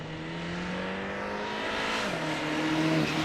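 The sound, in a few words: car engine revving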